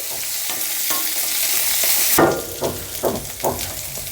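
Whole unpeeled garlic cloves frying in oil in a pan for tomato chutney, a steady close sizzle broken by a few scraping stirs of a spoon toward the end.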